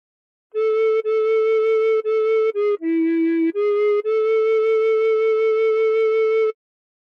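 The melody of House of the Rising Sun played on a recorder: a short phrase of separate sustained notes that dips to a lower pitch in the middle before settling on a long final tone, solo and close.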